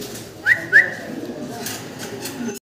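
Pigeons kept for sale give two short, clear coos close by in quick succession, followed by a softer low background murmur.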